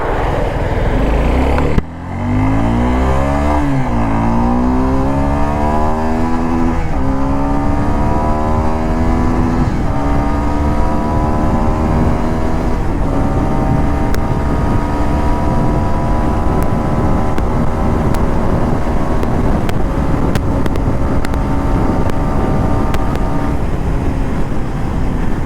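A Suzuki Gixxer SF 250 motorcycle engine accelerating on the road, its loud steady drone rising in pitch through several gear changes, with wind rush throughout.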